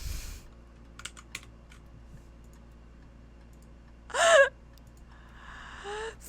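A few sparse keyboard clicks sound faintly during play of the PC game Cantaloupe Chronicle, broken by a short breathy gasp and a soft tonal chime near the end.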